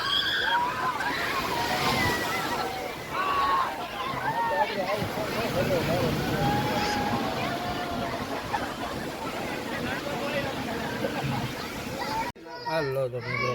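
Sea water sloshes and splashes around people bathing at the shore, with children's voices chattering and calling close by the whole time.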